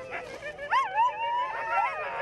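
Sled dogs at a dog race in Almaty give close, excited yips and whining barks, with rising and falling whimpering tones that run continuously for a couple of seconds.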